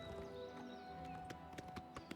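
Horse hooves trot steadily in Oblivion Remastered, a light rhythmic clip-clop of taps over a busy game soundscape near Skingrad, loud and close.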